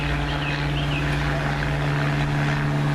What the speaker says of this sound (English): if you can hear me over the plane flying overhead